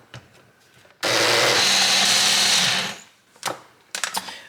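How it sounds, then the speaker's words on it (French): A kitchen blender purees stale bread with parsley, stems and olive oil in one loud, close two-second whir that starts abruptly and winds down, followed by a few clattering knocks. "Et je vais venir mixer à nouveau."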